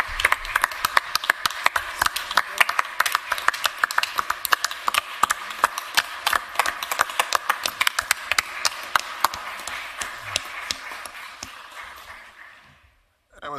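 Applause from a county commission meeting audience fills the room, a dense, fairly close patter of many hands clapping steadily for about twelve seconds before tapering off abruptly.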